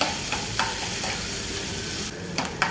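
Garlic and capsicum sizzle steadily in a hot pan for pasta, with a continuous frying hiss punctuated by a few brief stirring scrapes, no talking.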